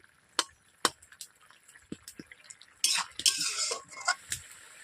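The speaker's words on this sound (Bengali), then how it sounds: "আমি আবারও খুন্তি দিয়ে একবার নেড়ে নিচ্ছি" A spatula scrapes and knocks against a pan while small fish curry with potatoes is stirred, giving sharp metallic taps followed by a brief burst of sizzling, close and fairly quiet with no talk.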